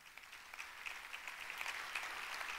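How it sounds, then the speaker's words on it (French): An audience at a 2024 New Year's greetings ceremony applauds, a soft, somewhat distant patter of many hands that builds slightly in density. "On peut les applaudir."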